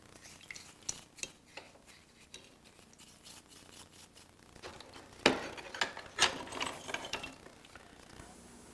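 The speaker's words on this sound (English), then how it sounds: "It's on a left-hand thread, so I turn it clockwise to back it off the stud." Turning a hand plane's left-hand-thread longitudinal adjustment wheel off its stud produces small, close metallic clicks and ticks, sparse at first and then a few louder knocks and rattles, with no talk.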